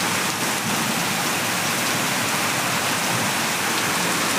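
Heavy rain pours at night in Nanded district, a dense, steady broadband hiss of downpour on surfaces, loud and unbroken throughout with no voices.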